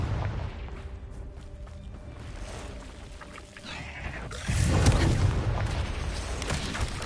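A fire spell explodes with a deep boom in the Hogwarts Legacy video game, and a louder rumbling blast swells in the second half over a constant layer of game ambience and combat noise.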